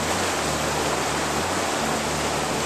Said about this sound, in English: Water's really ripping right now.